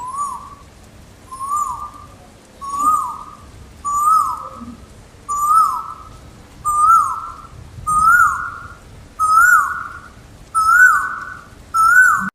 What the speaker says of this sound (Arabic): طائر كويل الآسيوي